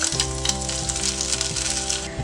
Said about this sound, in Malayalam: ഇതിലേക്ക് കടുക് വറുത്തത് ഒഴിച്ചു